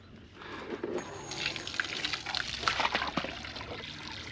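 Water trickles and splashes softly into a livestock trough on a farm with goats and cattle, a quiet, uneven burbling that grows slightly busier as it fills.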